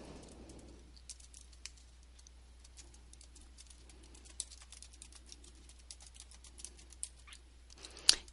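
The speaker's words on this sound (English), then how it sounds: "So we'll just go ahead and type in our email address." Someone types an email address on a computer keyboard while creating an online account: a quiet, irregular patter of key clicks continues for several seconds over a faint low hum, ending with one sharper keystroke.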